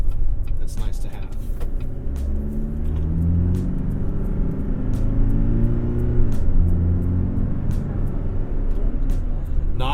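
Low, steady rumble of a 2016 GMC Canyon with a Duramax diesel engine cruising on the road, heard from inside the cab with someone talking over it.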